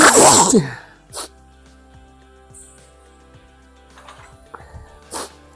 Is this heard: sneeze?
yes